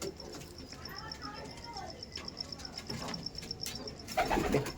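Kalanka pigeons in a loft coo in soft, repeated low murmurs nearby, with light shuffling and a brief flurry of movement near the end.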